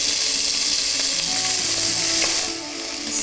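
Chopped onion hits a hot pan of oil already holding mustard and cumin seeds, giving a loud, steady sizzle and fry hiss that lasts throughout, with a few light stirring clicks and no talking.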